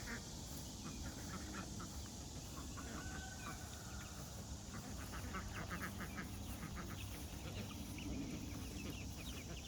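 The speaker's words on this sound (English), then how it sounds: "So these are our meat chickens" Meat chickens in a chicken tractor cluck and chatter softly and continuously at close range, faint and low over a steady outdoor background.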